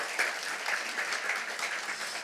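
Lecture hall audience applauding in honor of an organization's chairman, a steady dense wash of many hands clapping at even loudness throughout.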